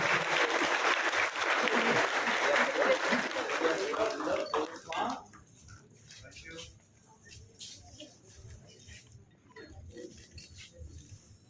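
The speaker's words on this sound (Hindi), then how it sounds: "एक बार ये सदन जोरदार तालियां हो जाए।" A hall audience at an awards ceremony bursts into loud applause for about five seconds. The clapping fades to scattered claps and quiet room noise.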